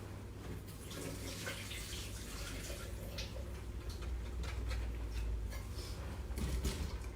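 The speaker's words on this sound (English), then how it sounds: "I'm going to run the water off of these green beans" Water runs steadily from a kitchen tap as green beans in a pot are drained, a continuous close splashing hiss with a few faint clinks, no talk.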